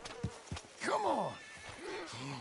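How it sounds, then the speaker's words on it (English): A horse in a PS4 Western game lets out a loud, wavering neigh close by, and hooves clop softly before and after it over quiet background ambience. "Hitch your horse up here."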